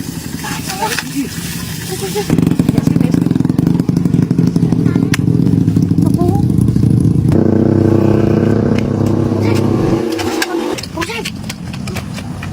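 A motorcycle engine starts up and revs loudly nearby, holds a steady rough roar, then shifts pitch and fades as it pulls away, with people talking over the engine noise.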